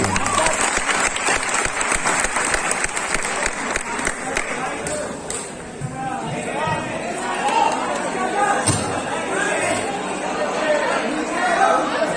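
An audience at a fan meet-up in Patna breaks into loud, sustained applause, with dense clapping at first and then crowd chatter and voices mixing in over the clapping.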